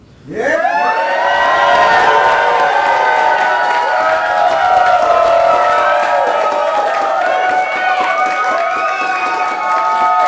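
A wedding crowd breaks into loud, sustained applause and cheering right after a couple is declared married, with clapping and whoops filling the room steadily for about ten seconds.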